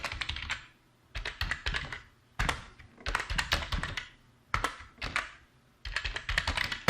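Computer keyboard typing while entering data into an Excel spreadsheet, several quick bursts of close keystrokes separated by short pauses, no speech.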